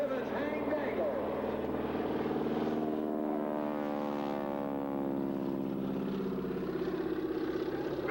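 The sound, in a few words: airshow airplane engine flying past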